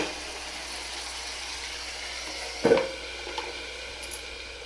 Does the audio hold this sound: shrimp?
yes